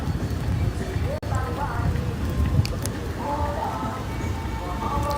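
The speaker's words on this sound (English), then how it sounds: "that's rain" Rain falls outdoors along a rural road in East Rural St Andrew, Jamaica, a steady broadband wash of drops on surfaces that runs throughout, with people talking over it.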